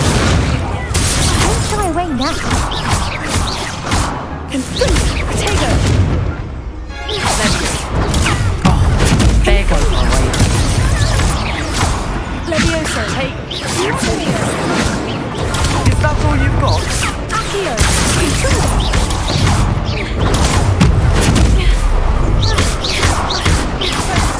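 Repeated fire spell blasts from Incendio casting in Hogwarts Legacy crackle and boom through dense, loud combat audio, with thuds and crashes layered over a continuous game soundtrack and occasional voices.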